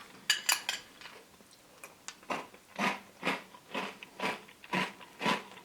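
Crunchy breakfast cereal with milk, Nesquik, Lion or Cini Minis, is chewed close up in steady, rhythmic crunching bursts that grow more regular toward the end, with no talk.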